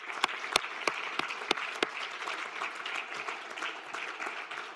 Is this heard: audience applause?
yes